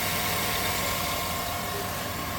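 A 2008 GMC Sierra 1500 pickup with a 5.3-liter LS V8 idles steadily and close by, a smooth, even engine drone with a low rumble and no voices over it.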